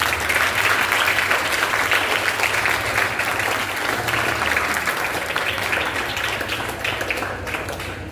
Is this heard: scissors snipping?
no